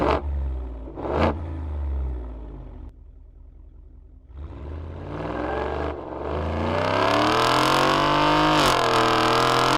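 A 2021-or-newer Ford F-150 with the 5-liter engine and a Corsa catback exhaust in its sport sound setting, starting up and revving in sharp blips, then idling low before a long rising rev, loud and close with no talking.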